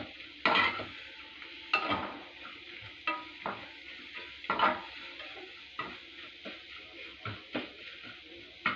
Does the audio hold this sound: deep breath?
no